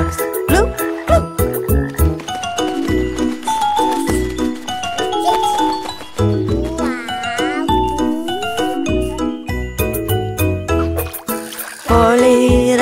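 A kids' sing-along about green speckled frogs, with cartoonish frog croaks and bloops popping rhythmically over a bouncy backing track with chimes and plucked notes.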